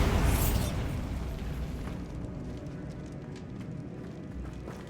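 Bombarda explosion spell in Hogwarts Legacy: a loud booming blast at the start with a bright crackling burst, rumbling and decaying over the next few seconds into scattered debris crackles.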